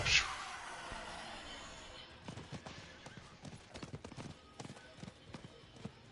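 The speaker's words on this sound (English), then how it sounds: "Horse is excited." Hooves clip-clop in a video game, a brief whinny at the start and then a steady run of close, rhythmic hoof beats over ambient game sound, with voices talking alongside.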